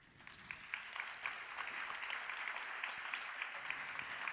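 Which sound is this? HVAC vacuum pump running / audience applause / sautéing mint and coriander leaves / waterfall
audience applause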